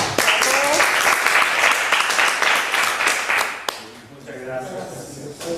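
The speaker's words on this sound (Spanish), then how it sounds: "un aplauso para todos" An audience applauds at a Chilean public forum on citizen-participation law, a dense burst of clapping that fills the first few seconds, then thins as a voice begins talking over the fading claps.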